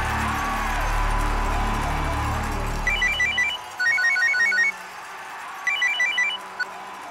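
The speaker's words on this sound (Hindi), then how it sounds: "डिकिंसन को फोन लगा।" A phone rings in repeated bursts of trilling electronic tones, three clusters separated by short pauses, after a loud rumbling background cuts away.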